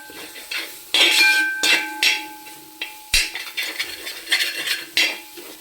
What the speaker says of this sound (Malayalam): നന്നായിട്ട് ഇങ്ങനെ ഇളക്കി അങ്ങ് കൊടുക്കുക